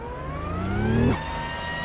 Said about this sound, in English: Oh, the sound is broken on this car. That's awful. Sounds like a plane.